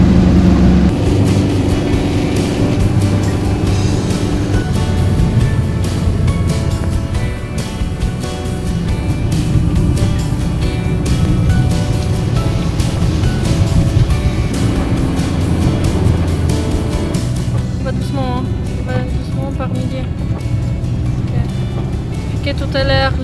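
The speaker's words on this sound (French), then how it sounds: "on continue à rouler parce que on a peur de s'arrêter et puis que le van ne redémarre plus comme tout à l'heure" A camper van drives along a road in stormy weather in Spain, its engine and road noise forming a loud continuous rumble throughout, with some shifts in tone partway through and a voice heard speaking over it.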